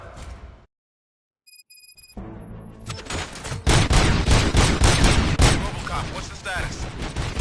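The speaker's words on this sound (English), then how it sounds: "Gunshots? What's going on?" In a Robocop video game, a brief silence, then a rapid barrage of loud gunfire and booming shots fills the rest, dense and chaotic with overlapping blasts.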